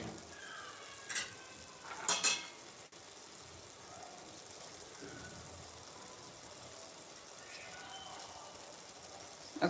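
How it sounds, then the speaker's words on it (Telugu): Onions with a green chilli frying in a pan over medium flame for chicken curry, a steady low hiss of sizzling oil throughout, with a couple of brief louder clatters near the start and no speech. "ఈ ఆనియన్ మంచిగా ఫ్రై అయ్యే వరకు ఫ్రై చేసుకోవాలి"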